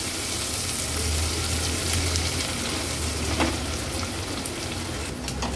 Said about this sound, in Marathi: कांदा तेलात परतून घ्यायचा आहे आणि गॅसची फ्लेम मीडियम ठेवून कांदा थोडा शिजवून घेऊया